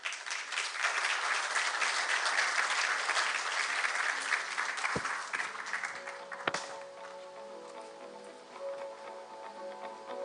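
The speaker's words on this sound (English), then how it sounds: "Let's give a big round of applause" Audience at an international journalism congress gives steady applause that thins out and tapers toward the end, with a couple of sharp knocks and a faint tone in the background.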